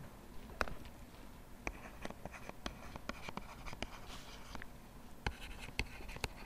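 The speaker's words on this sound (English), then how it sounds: "we'll write it down in our notes formally and officially now" A pen scratches across paper in quick irregular strokes and taps, fairly faint and close, while notes are written, with no speech.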